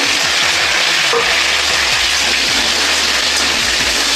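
Potato, brinjal and flat beans frying in hot oil with chilli and garlic tempering, a loud, steady sizzle filling the whole clip with no talk.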